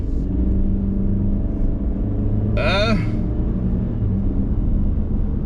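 A small Chevy Spark car engine drones at a steady low hum from inside the cabin while driving, with one brief rising whine partway through and no speech.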